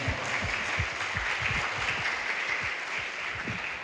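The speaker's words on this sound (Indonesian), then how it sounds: "Luar biasa tepuk tangan buat kalian." Students at a school visit applaud, a steady wash of many hands clapping at moderate distance, without speech over it.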